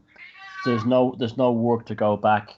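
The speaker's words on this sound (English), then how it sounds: "That's my cat" A pet cat gives a few close meows, partly overlapping a person speaking indoors.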